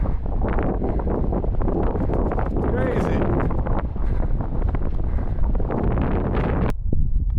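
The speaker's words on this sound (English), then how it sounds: "It is so windy today." Heavy wind roars and buffets the microphone continuously, with a voice talking briefly over the gusts.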